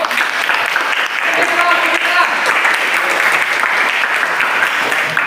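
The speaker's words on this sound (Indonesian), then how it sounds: "Tepuk tangan dulu." A classroom of students applauding in a steady, loud wash of clapping that lasts throughout, with faint voices underneath.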